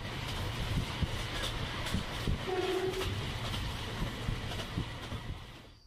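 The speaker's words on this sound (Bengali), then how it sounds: "ঝকঝক শব্দে ট্রেন ছুটে চলল" A cartoon train runs on its rails with a steady rumbling roll and faint rhythmic clatter, plus a brief tonal hoot midway, fading slightly toward the end.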